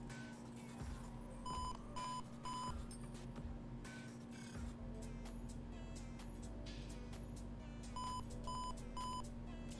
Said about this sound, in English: There will be 3 beeps from the buzzer.